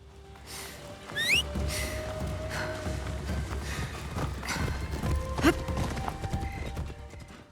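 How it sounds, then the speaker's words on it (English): A horse gallops across open ground in Assassin's Creed Shadows, its rhythmic clip-clop hoofbeats steady and close. A brief whinny rises over the running hooves. "when you whistle for your horse, it automatically gallops to you, allowing you to mount it on the move"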